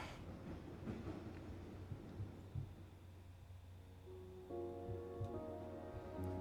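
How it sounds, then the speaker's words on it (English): A train rolls along a circular track in a video game, a faint, steady low rumble with soft rhythmic clicks, joined near the end by a brighter humming tone. "Is this train a circle?"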